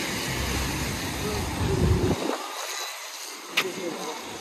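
Gusty wind rumbles across the microphone, then suddenly drops away, leaving a hissing outdoor backdrop with distant voices.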